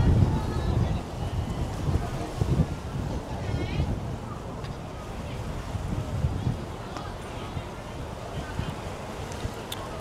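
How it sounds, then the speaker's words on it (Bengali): Strong wind at the Linhai seaside in Shenzhen buffets the microphone with a loud, low, gusty rumble that eases slightly over time, while a voice is heard speaking faintly. "আজকে প্রচুর বাতাস।"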